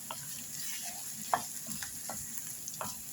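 Finely chopped ginger fries with softened onions in a pan, a constant close sizzle with a faint high whine above it and several short scraping stirs.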